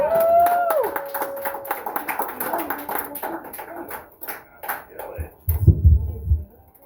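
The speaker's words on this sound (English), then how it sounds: "Give a big round of applause for Nathaniel Green." Applause from a comedy club audience welcoming a comedian to the stage at a headlining show in Medford, with scattered clapping under a loud whoop and cheering voices, then a burst of noise near the end.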